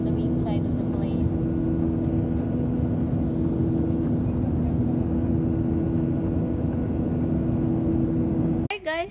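Steady low droning roar of aircraft engines inside an airplane cabin, heard from a seat near the wing, constant and unbroken, with a brief rustle near the end.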